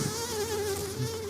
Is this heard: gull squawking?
no